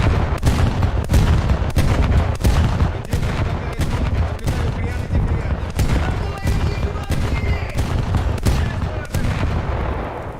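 Naval guns in a warship game pounding a German destroyer, a steady series of heavy, booming shots at roughly regular intervals over a dense rumbling background.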